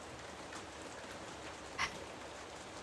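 Rain begins to fall outside a home, a soft, even hiss of drops that stays faint and steady throughout, with one brief, slightly louder spatter near the end of the clip.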